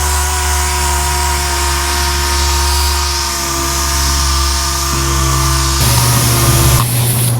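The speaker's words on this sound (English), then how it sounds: "It's sanding pretty good though." A power sander whines steadily and loudly over epoxy primer on a GMC Suburban, its pitch shifting slightly as it works across the surface, with a brief change in tone near the end.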